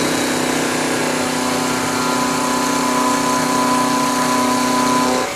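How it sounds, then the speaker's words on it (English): A milling machine spindle runs steadily while an end mill works on a metal vise stop part, giving a loud, constant humming whine that cuts off abruptly at the end. "So I'm going to turn my spindle on."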